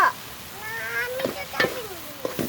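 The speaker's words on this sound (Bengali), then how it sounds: "তোমার জন্য ছাদের শাক রান্না করতেছি" Kalmi (water spinach) greens from a rooftop garden cooking on an earthen clay stove, a soft sizzle with stirring clatter, while a cat meows several times close by.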